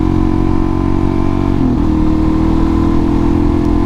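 A Suzuki DRZ dirt bike ridden on trails, its engine droning steadily loud and close with a brief dip in pitch midway, no talking.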